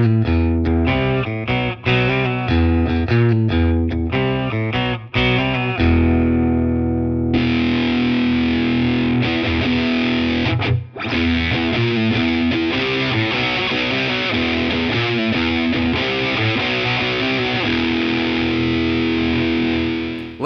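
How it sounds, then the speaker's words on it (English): Electric guitar played through a 1987 Boss MZ-2 Digital Metalizer distortion pedal, a loud, saturated and sustained tone with chords and riffs running continuously and a brief drop near the middle. "It's a distortion pedal from 1987."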